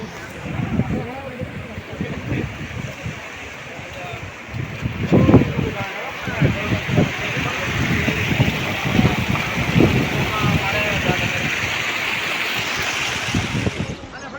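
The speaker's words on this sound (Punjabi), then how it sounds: "ਉਹ ਗੱਬੇ ਵੀ ਚੱਲਦਾ ਕਿੰਨਾ ਪਾਣੀ" Floodwater rushes through a seasonal stream (choe) after heavy rain, a loud continuous roar close by, overlaid with frequent gusty wind buffeting and people talking and calling out over it.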